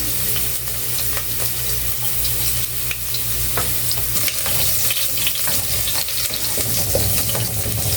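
Garlic sizzling in hot oil in a pan, stirred with steady scraping and spatula clinks, a close, continuous crackling fry with no voices.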